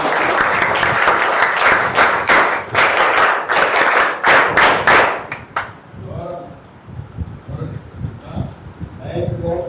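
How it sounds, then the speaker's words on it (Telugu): An audience claps loudly and rapidly for several seconds at a public gathering, then the applause fades into scattered claps and chatter as voices take over. "గట్టిగా చప్పట్లు కొట్టాలి"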